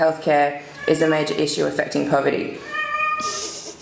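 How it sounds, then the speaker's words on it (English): A cat meows loudly and repeatedly close by, its meows overlapping a voice delivering a seminar talk. "Sorry, that's a cat."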